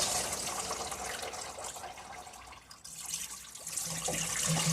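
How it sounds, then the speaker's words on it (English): Water gushes out of a Vauxhall Vectra B V6 engine block after the water pump is removed, a loud, sustained splashing pour that dips briefly midway and then surges again. "a massive deluge of water just released then"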